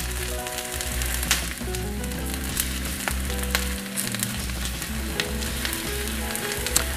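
Potatoes frying in a de Buyer blue carbon steel crepe pan, a steady dense sizzle with occasional stirring scrapes and clinks, close and continuous, alongside a low hum.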